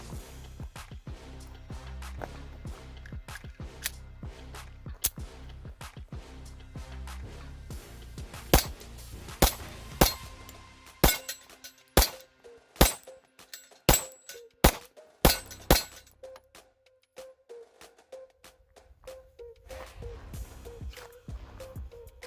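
A Sig Sauer P365 pistol fires through a magazine. Sharp, loud reports come in an uneven string, quick and dense at first, then more spaced out, each ringing briefly before the next.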